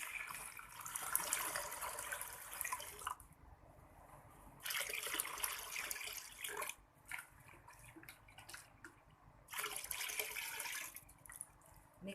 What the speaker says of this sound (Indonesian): ini ada air cucian beras saya udah saya kumpulkan beberapa hari, bisa kita tuang di sini